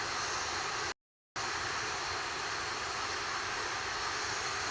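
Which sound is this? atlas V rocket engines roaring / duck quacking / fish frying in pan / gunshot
atlas V rocket engines roaring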